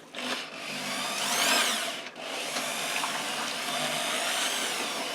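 An electric drill mixing wet mortar for a stone wall in a bucket, a steady close whirring grind with brief changes in pitch as the paddle churns the wet mix.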